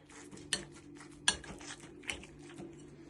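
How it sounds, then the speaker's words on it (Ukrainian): Several sharp clinks of dishes and utensils as homemade cheese is pressed down with a plate, a few distinct knocks spaced irregularly against a quiet background, close by. "притискаємо його тарілкою, щоб з нього вийшло, вийшла сиропка"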